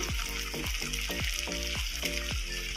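Masala Maggi ingredients, including tomato sauce and ginger garlic paste, are mixed in a hot pan, giving a steady sizzle with rhythmic scraping strokes about every half second, close by and without talking.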